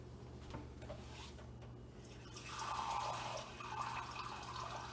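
Half a cup of water poured into a pan of orange juice for cranberry sauce, a soft steady splash that runs for a couple of seconds in a quiet kitchen.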